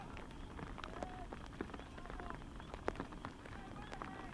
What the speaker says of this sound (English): Rain's starting to come down a little bit harder.